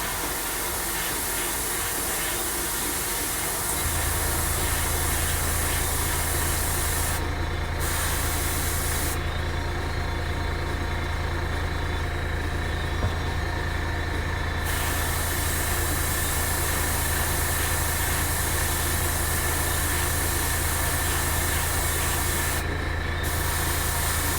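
Airbrush spraying paint onto Tamiya 1/35 German Tiger I model tank wheels: a steady, close hiss of compressed air running continuously throughout, with a constant low compressor hum underneath and brief gaps where the spray pauses.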